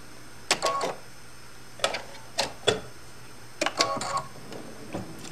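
A sewing machine stitches over a zipper on a small snack bag in several short, clattering bursts separated by brief pauses, close and clear with no talking.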